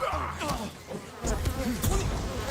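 Bees buzz in a samurai video game, a steady droning swarm that swells and fades over a couple of seconds, loud and close, with no talk over it.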